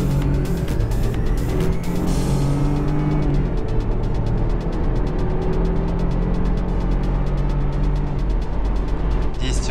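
BMW 318i on 100-octane petrol launching hard from a standstill with traction control off, its engine note climbing steadily through the revs, close and loud for the full run.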